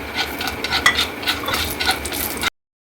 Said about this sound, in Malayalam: ഇനി നമുക്ക് ബാക്കിയുള്ള 3 കൂട്ടം ഇതിലേക്ക് ചേർത്ത് വറുത്തെടുക്കാം.